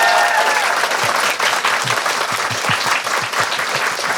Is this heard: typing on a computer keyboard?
no